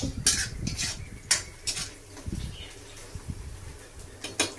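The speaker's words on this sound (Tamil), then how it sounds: "வெங்காயம் வதங்கிட்டு இருக்கு" Onions sautéing in a pan for crab curry, with a soft sizzle beneath repeated clinks and scrapes of a utensil stirring against the pan, close and fairly quiet, no voices.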